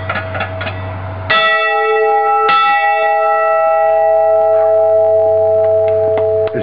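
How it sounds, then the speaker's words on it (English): The original bell of a First United Methodist Church rings out loud and close, two clear strikes whose bright, sustained tones hum on and slowly fade, with faint handling noise before the first strike. "the plaque here, of course, tells that it's the original bell of First United Methodist Church"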